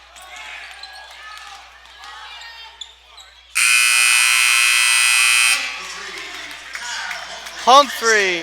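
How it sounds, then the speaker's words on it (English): End-of-game buzzer at a varsity boys high school basketball game, a loud, steady electronic blare lasting about two seconds, preceded by gym crowd noise and followed by cheering and a voice. "Kyle Humphrey with the buzzer beating 3."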